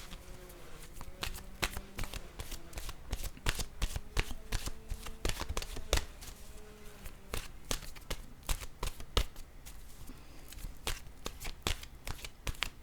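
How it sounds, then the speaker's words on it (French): Oracle cards being shuffled and drawn make a dense run of quick, crisp riffling flicks and snaps, close and fairly quiet, continuing steadily throughout with no talking. "Je vais piger maintenant une carte de mon oracle de l'âme intuitive"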